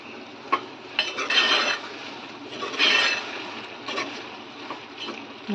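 Eggplant curry being stirred in a pan, with soft scraping and clinking of a spoon against the metal in irregular bursts, close and moderately loud, no talking.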